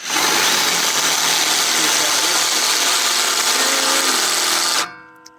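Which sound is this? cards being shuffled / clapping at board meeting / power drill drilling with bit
power drill drilling with bit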